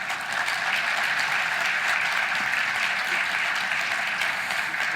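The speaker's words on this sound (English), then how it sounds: "one more round of applause for our Lions" Audience at a live pitch-competition event applauding steadily for five seconds: dense, sustained clapping from a sizable crowd that stays even throughout.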